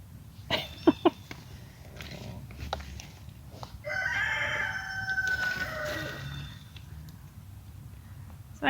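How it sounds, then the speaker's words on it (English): Roosters crow outdoors at a backyard garden with hens nearby, one drawn-out crow rising in the middle, moderately distant over wind and background noise, with a few sharp clucks early on. "I probably get serenaded by the roosters as we're doing that"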